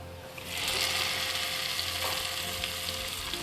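Steady, crackling sizzle of spices, including kala zira, frying in hot oil for a dal tadka, close and continuous with a hiss that swells early and holds.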